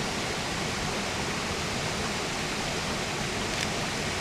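Goit Stock waterfall rushing steadily and loudly, a dense unbroken roar of falling water that holds constant throughout with no voices.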